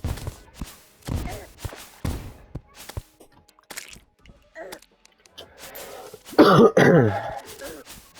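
Several close coughs and throat clears come in short bursts separated by quiet gaps, followed by a louder, rougher throat-clearing fit near the end.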